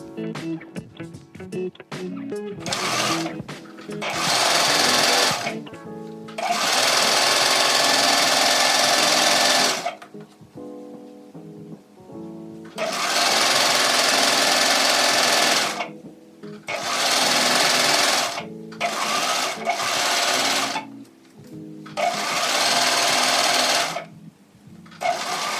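A sewing machine stitches fabric ties shut for a no-knit balaclava, fast rattling bursts of stitching several seconds long separated by short quiet pauses, close up with no talking.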